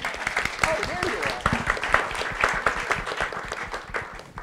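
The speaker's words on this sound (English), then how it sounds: "Let's give a round of applause." An audience at a round table event gives a burst of scattered applause with irregular claps, while a voice talks over part of it.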